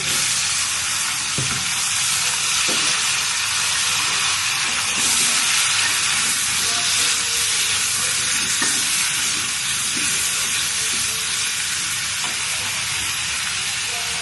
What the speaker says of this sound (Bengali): মাছ নামিয়ে নেওয়ার পর দিয়ে দেবো কাঁচা টমেটো